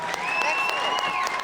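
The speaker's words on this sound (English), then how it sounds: "Big round of applause for Livoti's." Applause from the audience at a cookie competition show, dense steady clapping filling the whole moment, with a faint voice and some tonal sounds running beneath it.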